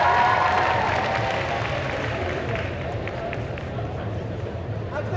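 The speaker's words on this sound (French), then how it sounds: "On les applaudit encore une fois bien fort" A convention crowd at the Made in Asia 2023 group cosplay contest applauds in a sustained, dense wash of clapping for performers dressed as Spy x Family characters, fading slightly toward the end.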